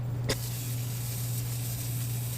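Aerosol can of penetrating oil sprayed onto a 2001 Ford F-150 during U-joint work: a sudden loud, close hiss that starts sharply and holds steady, continuous and unbroken, for about two seconds.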